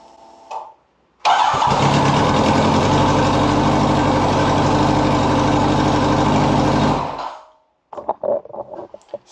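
1983 Kawasaki GPZ1100 motorcycle cranks and fires up, then runs loud and steady for about six seconds before cutting off, with faint handling noises before and after.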